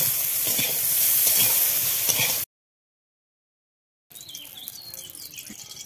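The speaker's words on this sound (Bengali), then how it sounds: "ফুলকপিগুলো এখন ভেজে নেব। সামান্য লবণ দিয়ে হলুদ দিয়ে ভেজে নেব।" Cauliflower fries in mustard oil with salt and turmeric, giving a close, crackling sizzle with stirring scrapes, cut by a sudden gap of silence before fainter frying resumes.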